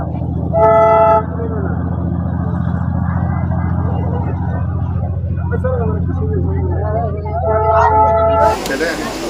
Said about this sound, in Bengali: দার্জিলিংয়ের টয় ট্রেন